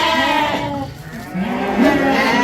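Several lambs bleat in overlapping wavering calls from a mixed flock of about a hundred young lambs, ewes and rams still nursing, loud and close with a dense chorus behind.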